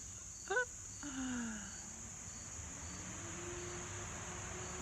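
A constant high, buzzing drone of cicadas fills the background, with a faint bird chirp and a low passing vehicle rumble beneath it.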